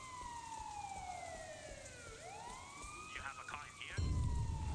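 A police car siren wails in the Sleeping Dogs video game, sweeping down and then up in a steady electronic tone before a louder burst of noise cuts in.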